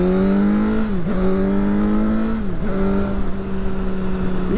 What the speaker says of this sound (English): just wait for these cars to go past.